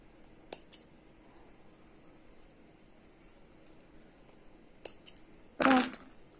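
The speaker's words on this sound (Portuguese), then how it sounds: "Aí aqui você já pode cortar o fio." Scissors snip crochet yarn while a crochet square is finished, with a few faint, sharp clicks early on, more small snips later and one louder, longer cut near the end, set against quiet room noise.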